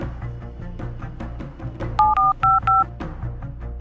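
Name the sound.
dialing a number on a mobile phone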